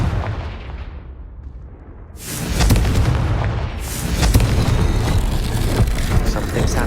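A Confringo fire spell in Hogwarts Legacy bursts loudly into booming, crackling explosions, followed by a second blast that keeps the roar going over a low rumble.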